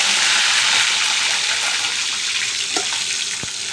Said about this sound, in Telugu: కొద్దిగా కరివేపాకు వేసేసుకుందాము.